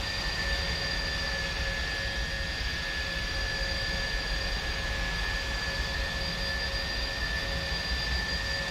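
Steady jet engine roar of a departing airliner in the X-Plane 11 flight simulator near Abu Dhabi airport, a continuous broadband rumble with faint tonal whine, holding even loudness throughout with no talking.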